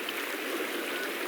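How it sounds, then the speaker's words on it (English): A quiet babbling brook runs over black sand near a waterfall in Iceland, giving a steady, soft rush of water that stays even throughout, with no voices. "very quiet babbling brook"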